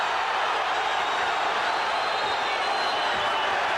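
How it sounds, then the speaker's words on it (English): Dense, excited crowd roaring throughout a boxing match between Livingstone Bramble and Mancini, a steady wall of cheering and whooping with no clear chant rhythm standing out. "This crowd is so excited. It's as though a million people are in here. And they all are chanting, boom, boom."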